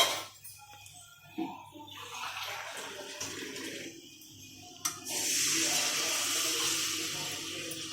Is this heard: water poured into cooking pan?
yes